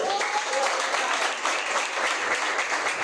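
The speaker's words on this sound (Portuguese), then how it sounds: "E as palmas é para o Senhor" A church congregation applauding during a sermon, steady dense clapping throughout, fairly loud and continuous with no gaps.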